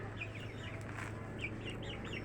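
Healthy backyard pet chickens give several soft, short clucks and chirps at moderate distance over a steady low hum.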